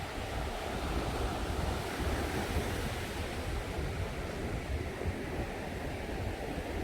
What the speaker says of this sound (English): Yeah, lovely beach.